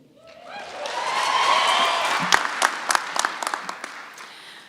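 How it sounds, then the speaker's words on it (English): College commencement audience at the FRCC Boulder Campus ceremony breaking into applause, swelling up from quiet, holding steady with a few sharp near claps, then fading out. "Please, one more round of applause in recognizing these outstanding individuals."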